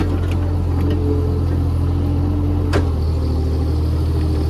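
A JCB backhoe engine labours under load while filling a foundation basement, droning loud and steady up close, with a low throb that shifts in pitch partway through.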